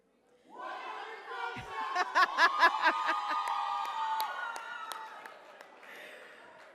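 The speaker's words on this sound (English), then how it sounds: "Keep the applause going for them" A crowd applauds and cheers the debate champions at a public sector debate competition grand final, with sharp scattered claps rising over a swelling murmur of voices, then easing off.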